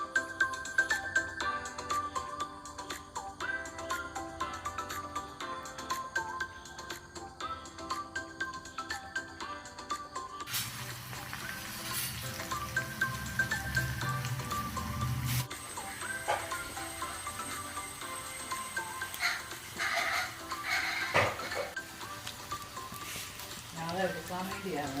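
Mustard seeds, chopped shallots, dried red chillies and curry leaves frying in oil for tempering a dried fish curry, a faint ongoing sizzle with light popping and stirring, under a speaking voice.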